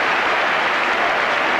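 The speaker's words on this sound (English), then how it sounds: "just listen to the applause of the crowd warming to Chris Waddle's talent" A stadium crowd at a 1985-86 Tottenham Hotspur football match applauds England winger Chris Waddle's run, a steady, dense roar of clapping that holds at an even level throughout, with no voices standing out.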